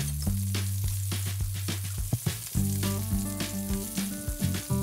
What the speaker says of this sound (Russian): Жарю со всех сторон.